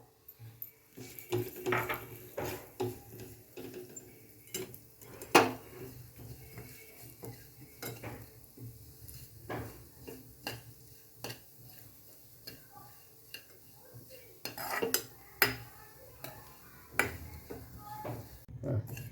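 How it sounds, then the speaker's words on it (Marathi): Cumin seeds being stirred and dry-roasted in a pan give off irregular clinks and scrapes of a spoon against metal, over a faint background sizzle, with some speech in between. "आता आपण जिरे पण परतून घेऊया"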